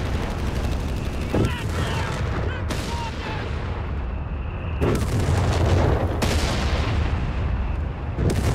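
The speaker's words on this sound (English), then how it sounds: "And there you go, full bazooka volley there, almost taking out the Sturmer there." Bazooka volley and battlefield gunfire in the Company of Heroes 3 strategy game, a dense continuous barrage of booms and shots with sharp bursts around the middle and later, loud throughout under faint commentary.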